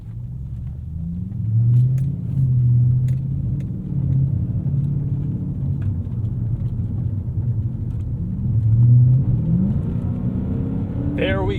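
A naturally aspirated V8 in a 2001 Lexus GS 430 with 174,000 miles pulls hard under acceleration, a low, steady engine rumble rising and falling as it revs, heard from inside the car with some talk over it.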